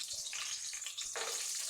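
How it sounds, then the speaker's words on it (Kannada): Peanuts frying in hot oil over a low flame, a steady soft crackling sizzle with a brief louder burst near the end, no voices. "ನಾನಿವಾಗ ಶೇಂಗಾನ ಒಂದ್ಸಲ ಎಣ್ಣೆಯಲ್ಲಿ ಫ್ರೈ ಮಾಡ್ಕೊತಾ ಇದ್ದೀನಿ."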